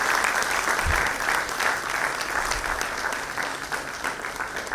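Sustained audience applause fills a women leaders in automation and data science awards ceremony, a dense, steady clapping from a large hall crowd that holds at an even level throughout.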